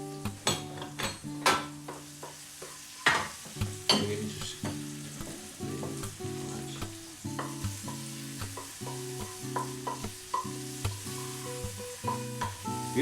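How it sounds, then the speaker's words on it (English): Kumquat softening in a frying pan for a relish, with a steady sizzle and repeated stirring scrapes and taps of a utensil against the pan throughout. "So we're just softening the kumquat slightly"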